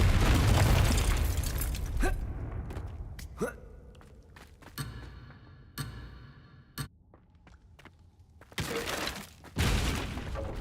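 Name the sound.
Confringo blasting spell explosion in a wizard video game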